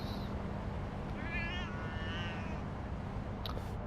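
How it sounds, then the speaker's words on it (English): A small black cat in the video game Lost Judgment gives two short, rising meows over steady ambient game background, fairly faint, followed by a brief click. "I can hear cat."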